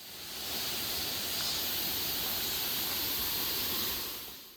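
Waterfall water rushing near a forest trail, a steady broadband roar with no breaks, fading in and out at the edges.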